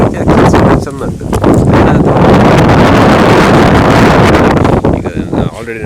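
Strong wind buffets the microphone outdoors around daybreak, a loud, continuous roaring rush that swells and barely eases, with a voice talking through the gusts.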